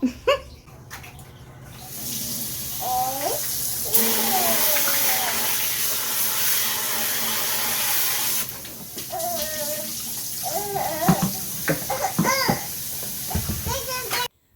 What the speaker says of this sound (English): I have a pressure washer on my faucet.